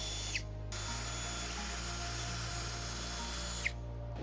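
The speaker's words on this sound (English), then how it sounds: "Now drill these holes out using a 1/4 inch drill bit." A power drill with a 1/4 inch bit bores holes while a U-Haul trailer hitch is fitted to a 2020-2025 Tesla Model Y. It gives a steady, close, continuous whine throughout, with brief clicks near the start and end.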